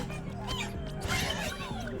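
Robotic cat sounds in Astro's Playroom, with short mewing and whining calls and a steady electronic tone underneath, soft and close, alongside game music and effects.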